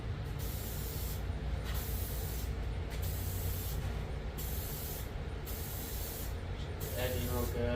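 Spray gun laying clear coat onto a 1989 Mazda RX-7 Turbo II, a steady close hiss running throughout with brief pauses between passes.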